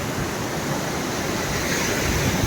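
Durgraj waterfall in the Sahyadri hills gives off a dense, unbroken roar of falling water that stays loud and steady throughout, with no voices.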